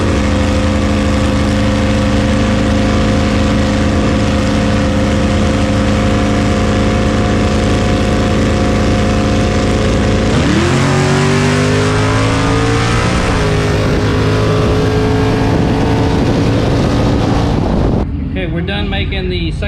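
A drag race car on a bracket race qualifying pass idles loudly and steadily, then launches with a sharp rise in engine roar and climbing revs, ending abruptly; wind buffets the microphone and a voice briefly talks over it.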